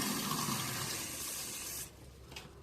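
Water is poured generously onto a potted plant, a soft, faint, steady splashing that runs for under two seconds and then stops.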